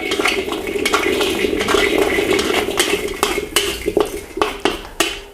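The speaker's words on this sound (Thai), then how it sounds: "ใส่หอมแดงลงไปเจ็ดหัวครับ กระเทียม 12กลีบ คั่วให้ผิวเกรียมเลยนะครับ" Shallots and garlic cloves dry-roast in a pan over medium heat, stirred with a metal utensil that clanks and scrapes against the pan in a steady run of loud, close knocks, with no voices.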